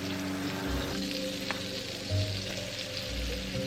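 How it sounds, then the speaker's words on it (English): A pat of butter melts in a frying pan on the stove, a soft steady sizzle with a low hum and a faint click, close and without voices. "Going to melt a pat of butter in the pan."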